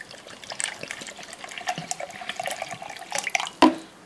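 About 150 ml of water being poured for a drink, with a light, uneven trickling and splashing that runs for several seconds and ends in a sharp clack near the close.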